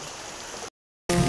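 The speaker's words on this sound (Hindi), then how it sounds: "पानी का बहाव बहुत तेज है।" Fast-flowing floodwater rushes in a steady broadband roar that cuts out abruptly midway. A louder burst of the same rushing noise follows.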